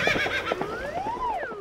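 A horse neighs close by, a long whinny with rising and falling pitch that sweeps up and then trails down, heard over a steady background hum.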